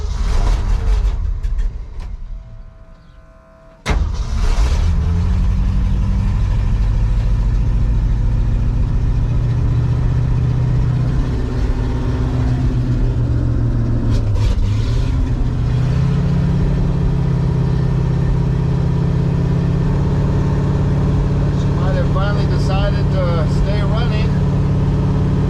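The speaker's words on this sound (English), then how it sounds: "Typical with this truck that I need to get it well warmed up before it'll idle." A cold 1966 Ford truck V8 cranks briefly, then fires up into a loud, rough idle that surges as the throttle is worked and stays running close by.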